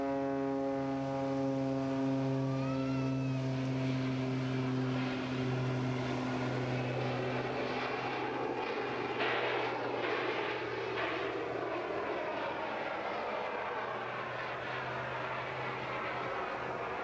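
A Pitts Special aerobatic biplane at the English Riviera Airshow droning loudly overhead, its engine a sustained buzzing tone with shifting pitch as it flies past, heard alone without talk.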